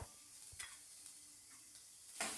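Grated coconut and shallots with curry leaves being stirred in a hot pan for a cheru cheera thoran, a few soft scraping strokes over a faint steady sizzle, fairly quiet and without talk.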